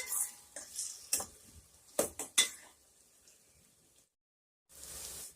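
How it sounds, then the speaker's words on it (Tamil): Garlic sautéing in a pan for garlic kuzhambu, heard as sharp spoon-on-pan clinks and scrapes over a faint low sizzle, then a brief silence and a soft steady frying hiss at the end. "இப்ப இதை நான் நல்லா வதக்கி எடுத்துக்கிறேன்."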